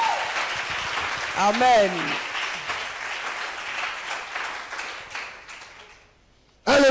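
Church congregation applauding and acclaiming during a Friday miracles and prophecy service, a broad wash of clapping mixed with loud voices and calls, fading briefly near the end before a voice cuts back in.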